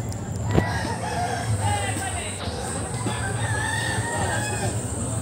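Roosters crow and cluck at an outdoor cockfight held in dense forest during a local fair. Crowing rises over a steady murmur of crowd noise and low rumbling background.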